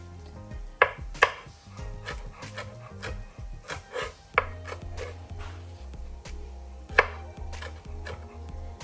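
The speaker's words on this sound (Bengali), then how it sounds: "আর আমি এগুলা কাট করে নিলাম" Vegetables for a prawn and uri bean curry are chopped with a knife on a board, giving irregular close thuds and sharp taps, some louder strikes standing out, with no talking.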